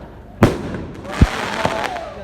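Fireworks at a New Year celebration in Cao Sơn, greeting the 2020 Lunar New Year, burst in sharp loud bangs, three main booms with crackling tails and echoes in between.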